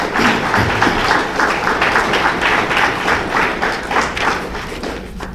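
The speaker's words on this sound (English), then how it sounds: "I think he deserves a round of applause." Applause at an agriculture annual review and planning meeting in St. Kitts and Nevis, fairly loud rhythmic clapping from a group of people in a room, lasting the whole clip and fading slightly at the end.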